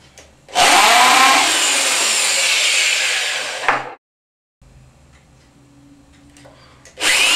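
A power drill bores into a rubber galosh on a swim flipper, a loud whining burst of about three seconds that cuts off, followed by quiet handling noises and then the drill starting again.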